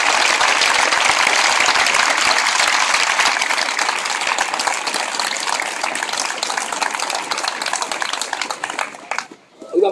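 Loud, sustained audience applause at a Podemos political rally in San Blas-Canillejas, Madrid, a dense wash of clapping that holds steady for nearly ten seconds before quickly dying away.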